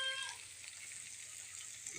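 Squid tossed into a pan of half-fried tempeh for an Indonesian stir-fry, giving a steady close sizzle and crackle of hot oil throughout, with no talking.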